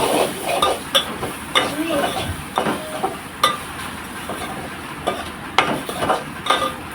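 Onion roasting with red chili powder, turmeric and coriander powder for a crab curry, a spoon scraping and clinking against the pan in irregular strokes over a soft steady sizzle.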